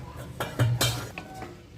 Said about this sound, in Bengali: কড়াইয়ে ঢাকনা খুললাম।